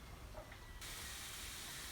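Zucchini and beans sizzling in a fry pan, a steady broadband hiss that grows louder and brighter partway through and then holds, fairly quiet, with no talk.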